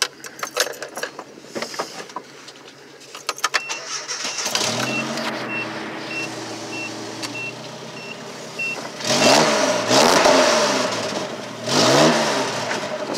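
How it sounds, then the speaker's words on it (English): A 1995 Grand Prix demolition derby car with a stainless steel pipe and Magnaflow muffler: keys rattle, then the engine cranks, fires and idles loudly, with two sharp revs near the end. "I hooked up a stainless steel pipe to a Magnaflow muffler. Crank it real quick."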